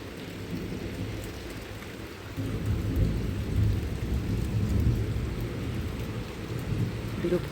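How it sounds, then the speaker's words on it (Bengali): Steady rain falls on surfaces through a daytime downpour, growing heavier partway through, with a low rumble of distant thunder rolling underneath the constant patter. "সকাল থেকে ছাপছাপানি বৃষ্টি"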